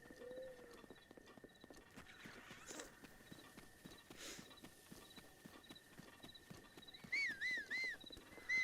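Horse hooves clip-clop steadily and faintly in The Legend of Zelda: Breath of the Wild, with game-like chimes rising near the end.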